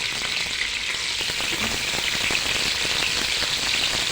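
Meat sears in a hot cooking pot with a loud, dense, continuous sizzle and crackle, close up and unbroken, with no voices.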